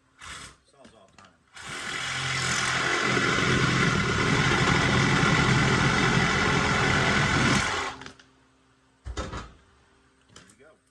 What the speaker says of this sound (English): Sawzall time.